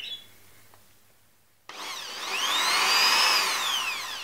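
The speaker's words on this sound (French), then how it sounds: "Donc vous allez percer un trou 2 cm et demi, enfin 1 cm, 1 cm et demi du bord à peu près" A drill bores a hole through bamboo for a parakeet swing: near-silence, then a sudden whirring onset with a rising, bending whine as the bit bites into the cane, close and steady for about two and a half seconds.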